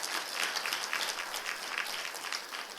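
A church congregation applauding during a Sunday service, a soft, distant patter of many hands clapping in a loose, uneven rhythm that continues steadily.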